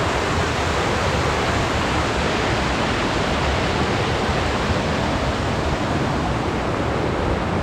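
Water pouring steadily down Jet Khot waterfall in Saraburi, a dense, loud, unbroken rushing roar with no pauses and no voices.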